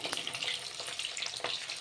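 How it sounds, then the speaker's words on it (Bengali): Cauliflower pakoras for chilli cauliflower sizzle in hot oil, a steady bright crackle with brief louder bursts, close and continuous, with no talking. "প্রথম ব্যাচটা ভাজা হয়ে গেছে, এবার দ্বিতীয় রাউন্ডটা ভাজবো"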